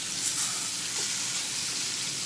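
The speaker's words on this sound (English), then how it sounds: "I love a hard sizzle on my salmon." A salmon fillet sizzles hard in a hot frying pan just after being flipped, a steady, loud crackling hiss that carries on unbroken with no talking.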